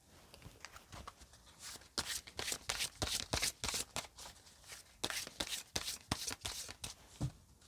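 Oracle cards being shuffled during a tarot reading, heard as a string of crisp, riffling card flutters in quick repeated bursts, close and clear, with brief pauses between the runs.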